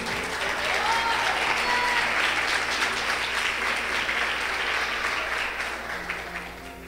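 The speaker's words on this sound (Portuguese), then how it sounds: "pode aplaudir o Senhor" A church congregation claps in loud, dense, steady applause during a worship testimony, the sustained clapping filling the room and slowly fading near the end.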